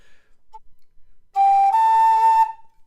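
A low D tin whistle plays a single steady, focused note of about a second, clear and pure, preceded by a brief faint tone and otherwise quiet.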